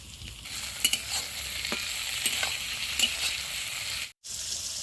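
Potatoes and eggplant frying in oil in a pan, a constant crackling sizzle heard close by with soft clinks and stirring taps, cut by a short moment of silence before the frying resumes.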